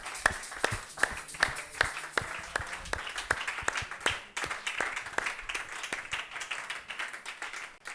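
A church congregation claps to acclaim the gospel: loud, rhythmic, steady handclaps from many people, carrying on for several seconds with a slight blur of crowd noise.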